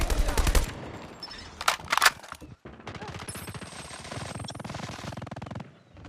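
In Call of Duty Mobile, a strafe run airstrike sends rapid, dense bursts of heavy gunfire and crackling impacts, loud and close, over a continuous rumbling roar with a brief drop to near silence midway.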